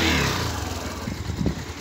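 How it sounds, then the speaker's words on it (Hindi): A motorbike engine on a village outing sputters as it restarts, a loud low rumble at first that dips and then picks back up with uneven pulses of revving. "और अभी हमारी बाइक बंद होगी तो अभी हम इसको स्टार्ट करते हैं दोबारा से।"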